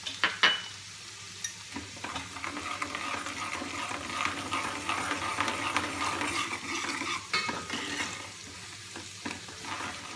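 Tadka with chili in a pan sizzles and crackles steadily while a spoon stirs it, scraping and clinking against the metal now and then, close and moderately loud with no talk.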